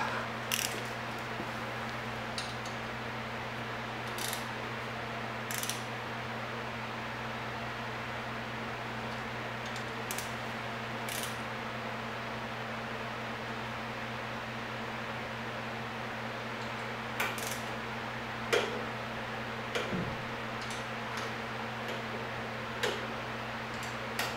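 A torque wrench tightens bolts on a Harley-Davidson Road King. Faint, sparse clicks come at irregular intervals over a steady low mechanical hum in a quiet workshop.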